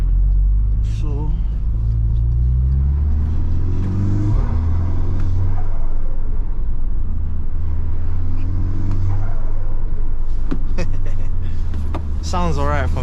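A MK6 Volkswagen Golf R engine heard from inside the cabin while driving through South London, with a steady low drone that rises and falls in pitch as it revs, mixed with road rumble and occasional cabin noises.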